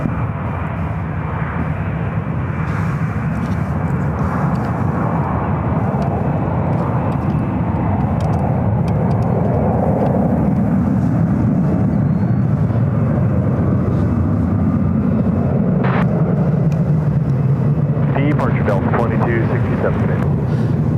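A departing airliner at San Francisco airport roars loudly and steadily with deep, sustained engine rumble throughout, building slightly before easing; faint voices come through now and then underneath.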